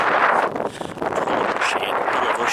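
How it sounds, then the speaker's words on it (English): Strong, very bad wind buffeting the microphone on an open hilltop at an Irish ring fort of ditch and mound, a steady loud broadband rush with gusty swells throughout. "Very bad wind."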